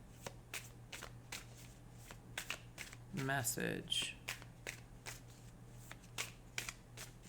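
Tarot cards being shuffled in a brisk riffling burst that lasts about a second, close to the microphone, set among quieter handling taps and a low steady hum, with a voice speaking briefly.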